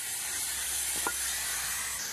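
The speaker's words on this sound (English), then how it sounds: "that's probably generating some steam" Steam from a steam engine hisses steadily and fairly loud throughout, a constant airy rush with a faint brief knock near the middle.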